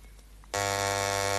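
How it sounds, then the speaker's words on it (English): A game show answer buzzer cuts in sharply after a quiet moment and holds as a loud, steady electronic drone until the end. "There's your buzzer."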